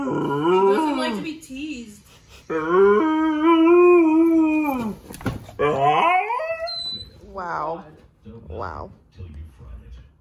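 A male puppy whines and howls in long, drawn-out, wavering wails, loud and close, followed by shorter rising whimpers and yips.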